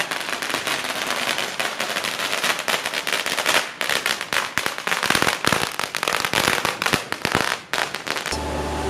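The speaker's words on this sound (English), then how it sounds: "Fireworks going off in the streets." Rapid strings of firecrackers popping and crackling nonstop in the streets during Chinese New Year, loud and close, with sharp bangs overlapping in dense bursts.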